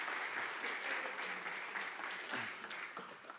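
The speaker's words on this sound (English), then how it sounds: "You can clap for them all." Church congregation applauding in a sanctuary, a steady wash of many hands clapping at moderate distance, fairly even throughout and tapering slightly toward the end.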